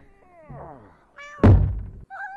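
Cats in the video game Big Time Monkey: a drawn-out falling meow, then a loud thunk, followed by another short high meow at the end.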